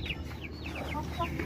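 An Aseel hen clucks in a short run of soft, close notes over a low background hum, with no one talking.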